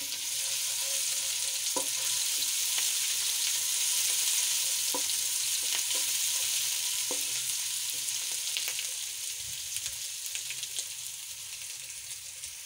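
Green chili and garlic-ginger paste frying in a pan for aloo baingan, a continuous close sizzle with occasional stirring clinks, easing slightly toward the end, no talking.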